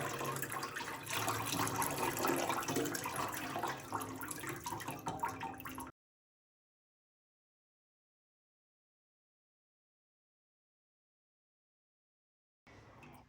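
Tomato seed pulp is poured slowly through a fine mesh screen, giving a steady close trickling, splashing pour for about six seconds before it stops into silence, with a faint brief sound returning at the end.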